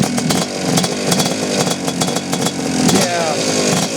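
An old Kawasaki Tecate 4 engine starts and revs close by, its uneven rough burble rising and falling, with people talking over it.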